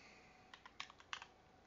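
A computer keyboard is typed on in a short, irregular burst of about eight quiet clicking keystrokes, close to the microphone, with faint background hiss and no voices.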